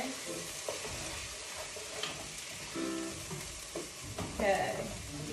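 Onions for a pomodoro basil sauce sizzling gently in a pan while a spoon stirs them, with soft steady frying hiss and a few brief scraping clicks, fairly quiet and close.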